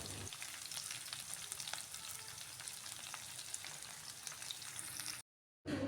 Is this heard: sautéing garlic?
yes